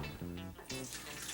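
Carrot juice poured from an Omega 8006 juicer into a measuring cup, a short splashing trickle with a gurgling stream that briefly pauses and resumes, close and fairly quiet.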